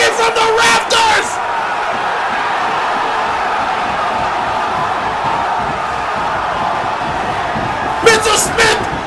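A wrestling arena crowd roars continuously and loudly, with sharper bursts of yelling and whooping at the start and again near the end.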